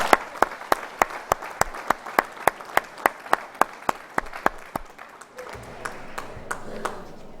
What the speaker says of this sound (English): I'd like to have a round of applause for student number 1, Charles Benson.